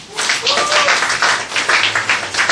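An audience at a school project information session claps in a steady, dense burst of applause, fairly close and loud, with a voice briefly sounding over it.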